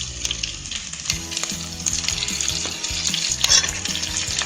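Asafoetida powder goes into onions and curry leaves frying for a traditional Tamil Nadu brinjal and raw mango sambar, giving a continuous close sizzle with scraping stirs and light spoon clinks.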